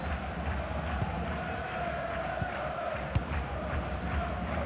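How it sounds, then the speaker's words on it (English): A stadium crowd in the FIFA 21 football game, at a Romanian Liga 1 match between Chindia Targoviste and CFR Cluj, holds a steady, distant roar throughout with a few faint thuds, and no voices stand out above it. "just listen to the crowd, they want a bit more"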